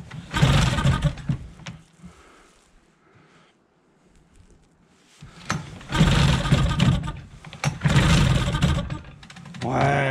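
A Mercury XR 10 outboard boat engine on a second start attempt, heard as two loud, rough bursts of engine noise separated by a near-silent pause, with people talking nearby.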